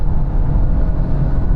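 A BMW 4 Series and an Audi A5 in a drag race, with the Audi pulling hard under kick-down. Loud, steady engine roar and road noise hold for the whole short stretch, with no voices.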